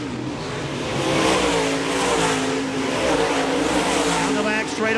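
Sprint cars race at Park Jefferson Speedway, their engines a loud continuous roar that swells and holds as they pass close, with a commentator talking over the noise.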